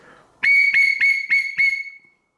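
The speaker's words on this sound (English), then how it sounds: "A couple moderate blows." A Shoreline Marine safety whistle blown moderately in five short, shrill blasts in quick succession, loud and close, the last tone trailing off before silence.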